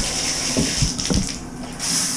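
Water pours steadily from a Kohler Finial series tub spout into a bathtub, a loud continuous hiss and splash with a couple of brief knocks partway through.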